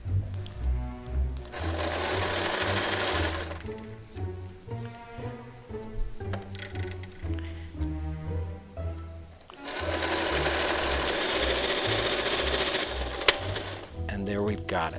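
A sewing machine stitches cardboard-backed fabric for a hand puppet's mouth in two loud, steady bursts of rapid whirring at the start and end, with someone talking in between.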